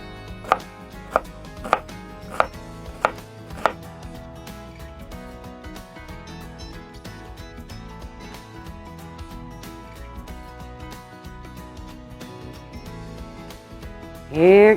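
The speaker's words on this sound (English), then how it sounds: "this was a really big onion, so we're just going to cut this one. Now I'm cutting it pretty small." A large onion is cut small with a knife on a board: a handful of sharp, evenly spaced chops at the start, then quiet board contact over a steady background, with a loud clunk at the end.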